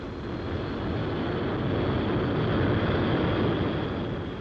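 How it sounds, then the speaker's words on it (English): Airplanes taking off from an airfield in 1963 produce a continuous, heavy roar of engines that holds steady and swells slightly, loud and alone, with no talk. "a variety of planes take off today on flights of discovery"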